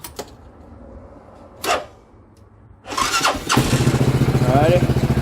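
A CF Moto Z6 motorcycle engine cranks and fires up in a garage during cooling-system bleeding work, catching after a couple of brief attempts and settling into a loud, steady pulsing idle close by.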